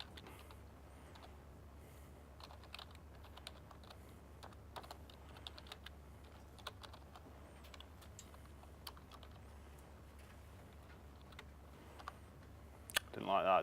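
Quiet computer keyboard typing, scattered soft clicks and short bursts of keystrokes over a low steady hum, with a slightly louder clatter at the very end.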